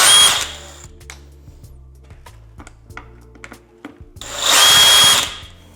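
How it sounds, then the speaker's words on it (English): Power screwdriver whirring in short bursts while removing screws from the cover of a JBL Boombox 3 speaker, with clicks and handling taps between the loud bursts. "now we need to take out these screws."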